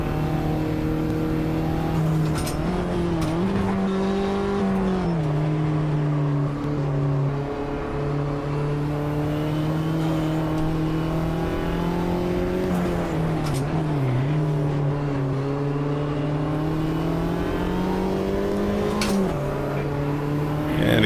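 Race cars from the Automobilista 2 racing game, a steady loud engine drone that climbs and dips with gear changes and throttle, sustained for over twenty seconds with no talk.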